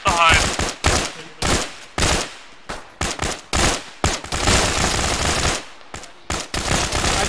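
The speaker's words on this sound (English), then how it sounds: "Keep firing till you don't have any ammo." Gunfire in the multiplayer military game Arma, played by ShackTac: rapid, close, loud bursts of automatic fire that start and stop in quick succession, several bursts running together into longer volleys.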